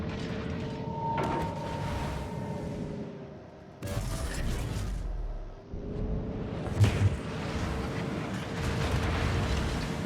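Distant naval gunfire in World of Warships rumbles across the map as muffled booms and a low roar, with a few sharper hits among steady game engine noise and no talk.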